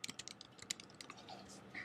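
A computer keyboard being typed on for a Google search, quick light key clicks in a short burst followed by a few scattered taps, close and fairly quiet.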